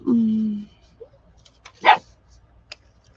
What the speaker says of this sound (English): he's beginning to bark a little bit